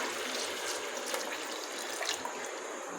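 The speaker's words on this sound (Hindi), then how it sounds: "इसमें हम 3 गिलास डालेंगे पानी के" Water poured into a container for kari sharbat, a steady broadband splashing stream running continuously throughout, close and moderately loud with no talking.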